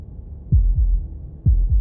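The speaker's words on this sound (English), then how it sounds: "That was the sound of a heartbeat," Heartbeat in the video game Slay The Princess, two low, muffled double thumps in a slow rhythm over a faint hum.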